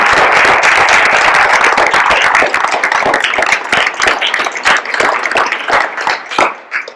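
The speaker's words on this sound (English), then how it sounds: "Let's give Professor Taylor a round of applause" A church forum audience claps for Professor Alan Shaw Taylor, a loud dense round of applause that thins into scattered individual claps as it fades out.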